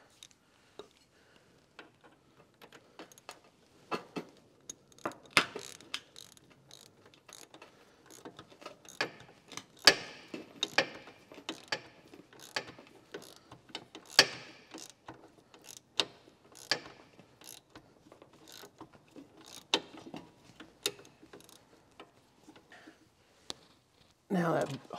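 A 3/8 ratchet tightening bolts during a Jeep Cherokee rear suspension rebuild, giving repeated short clicking bursts with gaps between them, close and fairly quiet.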